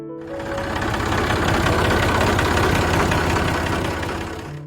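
Massey Ferguson 135 tractor engine from the 1960s-70s running at a steady idle, a loud, continuous low rumble with even knocking pulses that swells in and fades out, with no talking.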